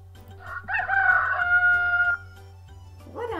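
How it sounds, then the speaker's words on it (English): A rooster gives one loud, close, drawn-out crow lasting about a second and a half, followed by quieter clucking afterward, with no talking. "A rooster."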